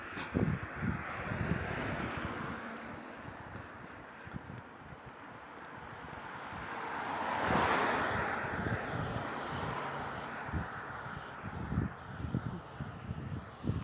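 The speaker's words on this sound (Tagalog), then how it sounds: "Sarap ng hangin." Steady rushing wind buffets the microphone, swelling louder midway before easing back, with scattered low thumps underneath.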